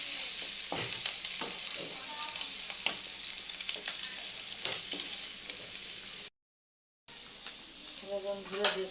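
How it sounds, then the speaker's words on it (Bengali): Meat frying with green chillies while being stirred, a close sizzle broken by scraping strokes and clanks, cut by a brief gap of silence near the end. "দেখুন মাংসটা কষাচ্ছি, দেখুন কত সুন্দর কালার হয়েছে।"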